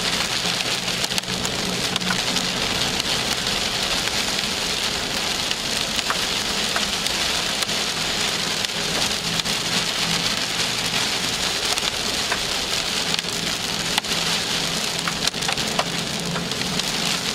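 Hail and rain drum on a storm chasers' vehicle beneath a wall cloud during severe storms in western Oklahoma, a dense, loud, continuous clatter of sharp impacts over steady roaring rain, with no voices.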